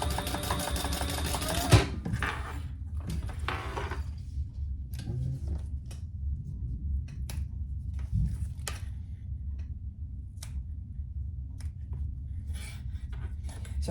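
A sewing machine top-stitches a crossbody bag in one short loud burst of stitching, then quiet handling taps and rustles over a low background hum.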